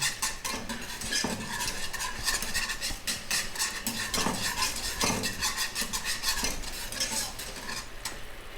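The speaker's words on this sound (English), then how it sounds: "So just whisk it through." Chicken gravy is whisked in a pan, a steady rapid scraping and clinking of the whisk against metal with a soft sizzle underneath, continuous and close throughout.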